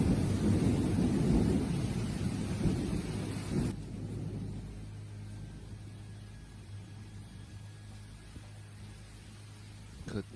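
Thunder from a green lightning storm over Guthrie, Oklahoma rumbles heavily and loudly at first, then cuts to a quieter stretch of low rumbling and faint rain with a steady hum underneath.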